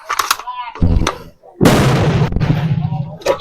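M4 rifle fired at a 15-yard target while sighting in a green laser, with loud sharp shots booming close by amid brief outdoor noise.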